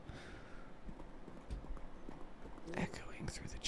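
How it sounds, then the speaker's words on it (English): Footsteps echo through a quiet stone chamber in the video game Lunacid, a soft, irregular tread that grows busier near the end, with a voice talking over it. "Nothing but the sounds of our footsteps."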